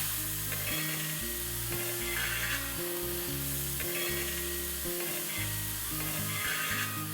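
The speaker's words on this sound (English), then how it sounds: "let's fry these onions till they are nice and brown in color" Chopped onions fry in oil in a pan for a chicken pomegranate dish, a steady hissing sizzle with soft rhythmic stirring, close and unbroken, with no speech.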